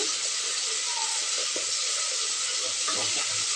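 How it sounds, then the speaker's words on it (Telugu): Ginger garlic paste sizzles steadily in a hot pan, a continuous bright frying hiss with a few soft clicks of stirring. "అల్లం వెల్లుల్లి పేస్ట్ కొంచెం కొంచెం బ్రౌన్ కలర్ వచ్చేలాగా వచ్చే వరకు ఫ్రై చేసి చేసుకోండి"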